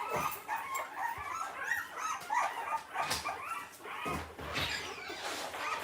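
A mother dog in a kennel barks, yips and whimpers again and again in quick bursts, close by and fairly loud, with no talking over it.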